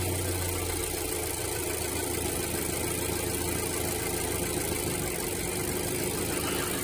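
A car engine idles steadily while a voltage regulator is being tested for a poor electrical contact, a constant low hum and rattle with no voices, fairly quiet and unchanging.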